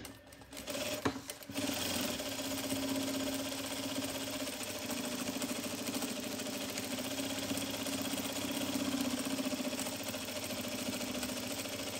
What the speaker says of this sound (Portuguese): E vamos fazer a costura na volta toda.